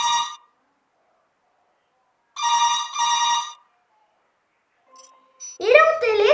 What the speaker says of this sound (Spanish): ¡Era un teléfono!